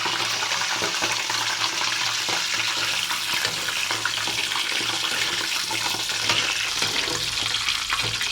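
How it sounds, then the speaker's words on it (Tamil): Eggplant pieces fry in hot gingelly oil for a spicy kara kuzhambu, giving a steady, dense sizzle and crackle that runs unbroken throughout with no voices. "கத்திரிக்காவை அந்த எண்ணெயில் வந்து என்ன பண்ணோம் பொறிச்சு எடுத்துக்கணும்"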